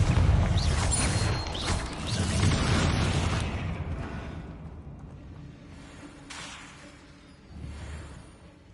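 A Confringo fire spell bursts in Hogwarts Legacy, a loud whooshing explosion with a heavy low boom that rumbles and fades, followed by smaller bursts and impacts later, with no voices.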